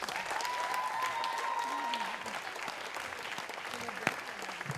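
An audience claps steadily after a spoken word poetry performance, a moderately loud, continuous round of applause with a voice faintly audible beneath it.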